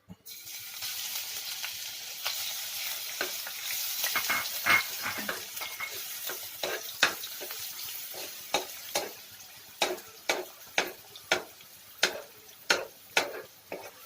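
Ginger garlic paste fries in hot oil in a pan while preparing Gobi Manchurian, a steady sizzle that gives way to a run of sharp, evenly spaced scraping strokes of a spatula, close and fairly loud, with no talk.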